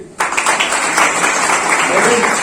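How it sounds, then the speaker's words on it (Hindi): A seminar audience at a college breaks into sudden, loud, close applause for a child, a dense clatter of claps that starts abruptly and holds steady. "2 ताली बच्चे के लिए।"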